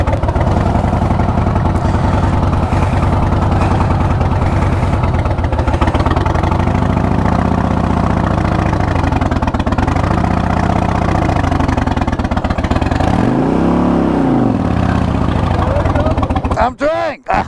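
A loud, steady Harley-Davidson motorcycle engine holds a high-revving note through a burnout. Its pitch swells and dips in rev sweeps near the end, and voices talk over it.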